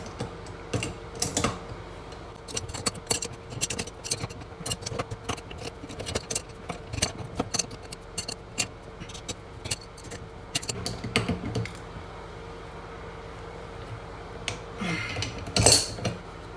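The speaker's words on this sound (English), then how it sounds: "I'm going to put the 1 inch on the bottom, and I'm going to put the crescent wrench on the top" Metal wrenches, a one-inch wrench and a crescent wrench, clinking and scraping against a washing machine inlet water valve fitting, with scattered close taps and clicks, some louder clanks near the end.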